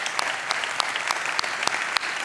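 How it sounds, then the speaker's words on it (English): An audience at a theater celebration claps in sustained applause with scattered sharper claps, steady and fairly loud throughout, with no talk over it. "let's give them a round of applause"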